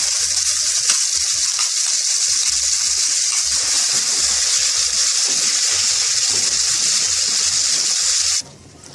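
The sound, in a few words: almond paste frying in ghee in a heavy-bottom pan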